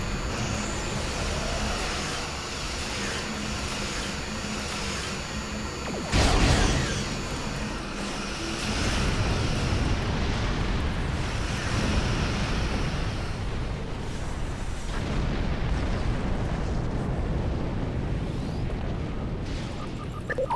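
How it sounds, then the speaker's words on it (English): A plasma lance weapon firing from a Yamato-class dreadnought cruiser in Star Trek Online, a sudden heavy blast about a third of the way in over a constant loud, dense rumble of ship and weapon effects. "Firing station plasma lance in 3, 2, 1."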